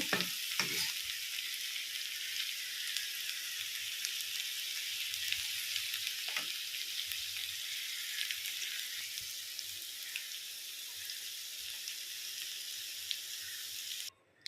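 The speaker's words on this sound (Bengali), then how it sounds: "কাঁঠালটা ভাজা হোক" Jackfruit pieces fry in a pan of oil as part of a jackfruit vegetable dish, making a loud, steady, unbroken sizzle with a few faint knocks. No voices, and it cuts off abruptly at the end.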